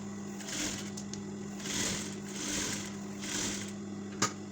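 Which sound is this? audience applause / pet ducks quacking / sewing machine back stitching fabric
sewing machine back stitching fabric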